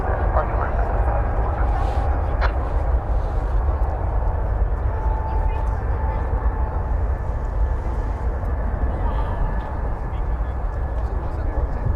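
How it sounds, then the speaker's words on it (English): An Delta Airbus A220 airliner at DFW Airport gives a steady, loud jet roar that fills the whole stretch, with faint voices underneath. "Delta 803 to Seattle, Airbus A220."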